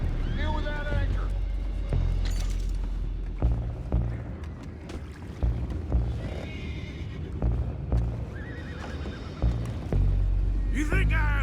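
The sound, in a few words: horses neighing in video game Red Dead Redemption 2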